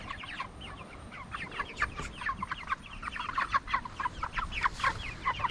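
Several chickens in a chicken tractor cluck and chatter close by in quick, overlapping bursts over a soft outdoor background.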